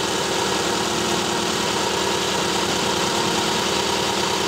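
A Subaru engine idles during a misfire test on a cylinder, giving a steady, loud, continuous mechanical drone with a faint knocking roughness throughout, heard up close with no voices.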